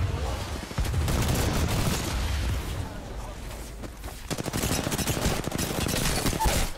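Sustained automatic gunfire in the video game Apex Legends, loud rapid volleys rattling almost without pause, with a brief lull near the middle before dense shooting resumes.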